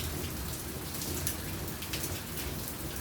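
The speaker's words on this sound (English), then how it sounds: "It is raining right here." Heavy rain pouring down outside in a dense, steady hiss of drops hitting surfaces, loud and continuous throughout with no voices.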